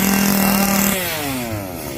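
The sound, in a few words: chainsaw running at Texas Chainsaw haunted attraction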